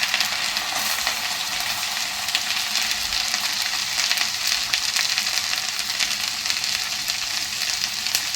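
Onion frying on a tawa for Mumbai-style tawa pulao, a dense, continuous close sizzle with faint crackles and no voices.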